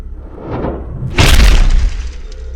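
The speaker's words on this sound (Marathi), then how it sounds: "अचानक गाडीच्या टपावर धप्पा असा मोठा आवाज झाला" One sudden heavy thud lands with a deep, booming rumble, then fades into low background noise.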